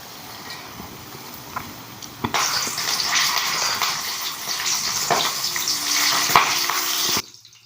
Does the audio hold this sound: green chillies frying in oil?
yes